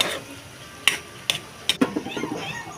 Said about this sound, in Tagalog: Eto nga, hinalo-halo ko lang.